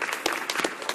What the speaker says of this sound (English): out of respect for the memory of Carl Tim, I would like and ask all members to share a round of applause